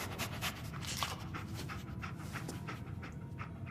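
Rapid, steady panting from the dog companion Dogmeat in the video game Fallout 4, breathy and continuous at low level throughout, with no speech.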